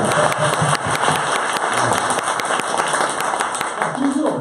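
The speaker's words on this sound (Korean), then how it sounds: "여러분 큰 박수 한번 부탁드리겠습니다" Live studio audience at a Korean talk show claps in a dense run of sharp, close hand claps, filling the room for several seconds.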